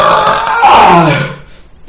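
A single loud, drawn-out burp, close and raspy, swells and then trails off over nearly two seconds with no talking.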